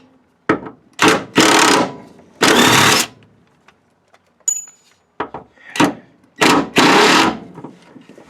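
A power tool works on a Toyota RA40 Celica during engine removal, firing in short loud bursts of whirring and rattling with sharp gaps between them, close by, no talk.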